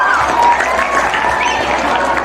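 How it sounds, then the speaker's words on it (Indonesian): Students clap together in a crowd at a Monday morning flag-raising ceremony at a school, loud, dense applause that stays steady for a couple of seconds. "tepuk tangan untuk kita semua"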